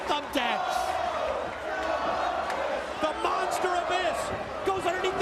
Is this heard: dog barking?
no